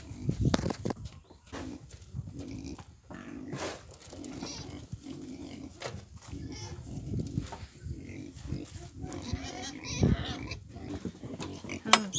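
Vietnamese pigs eating and grunting, with repeated snorts and grunts close by over steady chewing and rustling that go on throughout.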